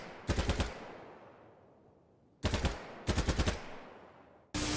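Bursts of M4A1 rifle fire in the shooter game BattleBit Remastered: three sharp, loud automatic volleys, each several rapid shots, separated by decaying echo tails, with a fourth burst starting right at the end.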